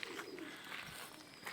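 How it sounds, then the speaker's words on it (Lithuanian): Soft pigeon coos echo faintly through the abandoned Monte Palace hotel at Sete Cidades in the Azores, low and distant against steady ambient noise, with no voices. "dabar jis tapo paukščių viešbučių, van, balandžiukai gieda"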